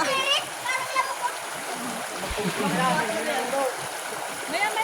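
People bathing in a cold mountain stream, with constant rushing water and scattered splashes close by while adults and someone talk over it.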